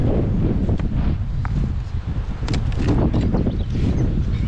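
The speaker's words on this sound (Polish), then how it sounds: "Dzisiaj strasznie nam wieje." Strong gusty wind blows outdoors, roaring and buffeting the microphone in a loud, continuous low rumble with fluctuating gusts.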